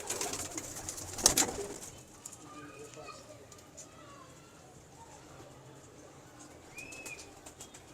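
Ferozpuri pigeons at a rooftop loft give a short burst of wing flapping, then soft, faint cooing follows at moderate distance against a quiet background.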